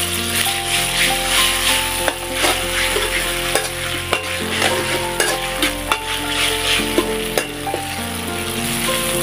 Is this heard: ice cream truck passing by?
no